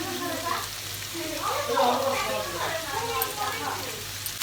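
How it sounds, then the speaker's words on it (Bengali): Capsicum, onion and mixed vegetables frying lightly for chowmein give a steady soft sizzle with occasional stirring scrapes, while a person talks over it. "এই দেখো সবজিগুলো ভাজা হয়ে গেছে"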